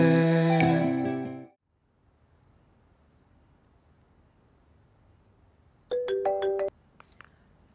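An incoming-call ringtone chimes in a short bright melodic burst after a louder musical passage fades to near silence, with faint high periodic chirps in the quiet background and no talk.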